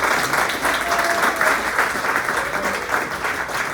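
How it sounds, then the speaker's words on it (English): Attendees at a legislative committee meeting give a senator a steady round of applause, a dense and even crowd clapping at moderate loudness with no talk over it. "Let's give another round of applause to our senator."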